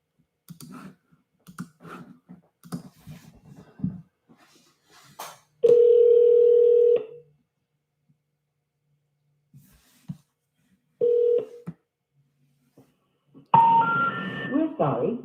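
A landline telephone handset gives a steady dial tone, then a series of soft clicks and short tones as a number is dialed, followed by a ringing or intercept tone near the end, with no talk.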